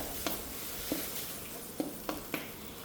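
Green curry paste cooks gently over low heat, a faint, soft sizzle punctuated by five light taps of a stirring spoon against the pan.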